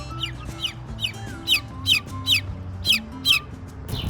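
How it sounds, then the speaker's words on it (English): Silkie Bantam chicken giving a run of about nine short, sharp high clucks at a fairly even rhythm, close and clear over low background hum, with no talking. "Chicken."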